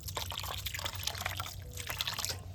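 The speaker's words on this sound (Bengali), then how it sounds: "এইভাবে জল দিয়ে একটু ভালো করে ধুয়ে নেবেন কারণ এটা হচ্ছে ভিনিগার দিয়ে ছানাটা কাটানো আছে" Running water rinses vinegar-curdled chhana for rasgolla in a kitchen, a steady close trickle and splash over a low background hum, with no talking.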